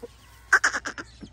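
A rooster on a farm gives a quick run of about five loud, harsh calls close by, followed by a softer final note, against a quiet background.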